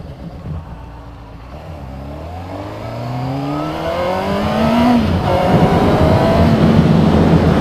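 A Honda Hornet 600 motorcycle engine revs while being ridden, climbing steadily in pitch through the gears with a smooth, rising whine that grows louder and fuller, close to the microphone with no talk.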